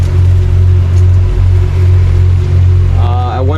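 Boat engines droning steadily on a calm sea during a sailing passage to Grenada, a loud low continuous hum with slight pulsing, and a voice speaking briefly near the end.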